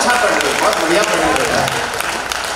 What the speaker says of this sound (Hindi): एक बार दादा के सम्मान में तालियां बजाएं।